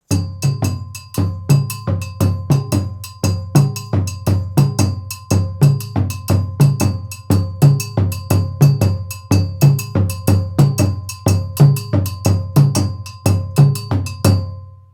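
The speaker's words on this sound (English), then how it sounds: "So that is the bell and the dundun part for Warabadon." Dundun drums and bell playing the Warabadon rhythm, a steady driving loop of deep drum strokes and ringing metallic bell hits, close and loud, continuing evenly without any voices.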